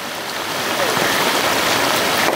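The clear-watered Bhalu Khola stream rushes at its source in the monsoon season, a steady, close, broadband wash of flowing water that swells slightly and continues without a break.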